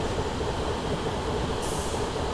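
A Class 175 diesel train running on the North Wales Coast Line in Train Simulator, a steady continuous rumble of engine and rails with no pauses, fairly loud and heard alone without talk.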